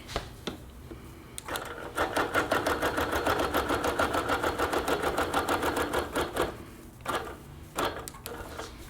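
A sewing machine runs in a steady, close, rhythmic stitching burst of about five seconds while basting a quilt top, framed by quieter handling clicks before and after, with no voices.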